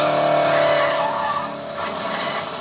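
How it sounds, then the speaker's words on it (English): A car skids in the Dead Island video game before crashing into a tree, a loud, sustained tire-and-engine roar that fades slightly midway, with no talk. "We just crashed into that tree."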